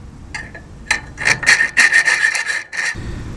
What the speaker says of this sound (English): Just file this off.